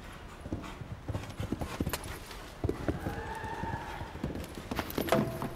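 Rhythmic clip-clop of horse hooves on soft arena ground at a show jumping competition in Las Vegas, with a horse whinnying midway over a murmuring crowd.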